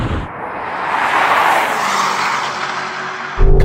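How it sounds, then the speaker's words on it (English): A Lamborghini Urus Performante SUV accelerates hard off the line in a drag race against other quick SUVs. A loud, rising engine and tyre roar sweeps past, then a sharp low thump closes it. "here comes the Urus"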